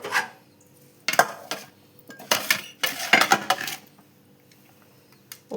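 Maggi noodles tipped into a serving bowl, with a few bursts of dish and utensil clatter separated by quiet pauses, close and fairly loud, no talking.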